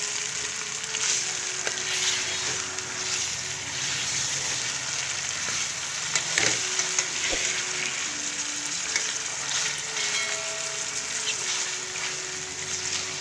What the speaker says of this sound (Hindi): कलेजी फ्राई कर रही हूँ।